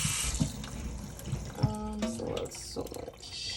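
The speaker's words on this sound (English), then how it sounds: "So, I'm going to start off with washing the oxtails." Tap water running into a kitchen sink while oxtails are washed, a steady close rush with a few clinks and splashes, and a short tonal squeak midway.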